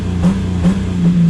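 A car engine bounces off its two-step launch limiter at wide open throttle, giving a steady buzzing drone at a fixed pitch with a quick pulsing stutter, loud and close.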